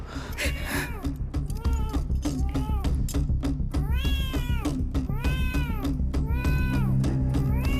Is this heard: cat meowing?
yes